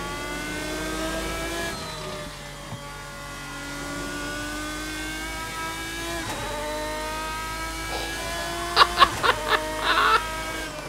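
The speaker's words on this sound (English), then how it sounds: "this might be one of my favorite sounding cars in Assetto Corsa right now" GT1-era race car in the Assetto Corsa racing sim, engine pitch climbing and dropping through revs and gear changes, fairly loud and steady, ending with a few sharp pops or crackles near the end.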